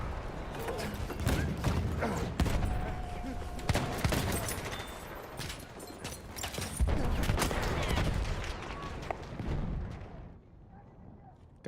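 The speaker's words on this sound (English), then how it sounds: "There's a lot of mortars and a lot of tanks shooting at this point right now" Mortars and tanks firing in Battlefield 1, heavy booming blasts and rumbling explosions with scattered gunfire, loud and continuous before easing off at the end, with voices talking amid the barrage.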